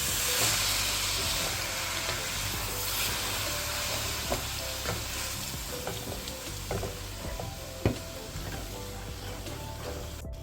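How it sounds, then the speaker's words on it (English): Turkey chili meat simmering with a whole can of lager in a pot, giving a steady low bubbling hiss with occasional faint clinks and a louder knock near the end, no talking. "our meat is coming up to a boil, and we did went ahead and use the whole can of lager"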